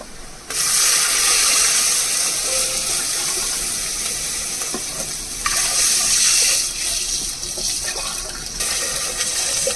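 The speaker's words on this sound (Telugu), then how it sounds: "దీంతో 3 గ్లాసుల నీళ్ళు పోసుకోవాలి" Water pours steadily from a container into a rice pot, about three glassfuls, a continuous splashing rush that lasts several seconds, close and fairly loud.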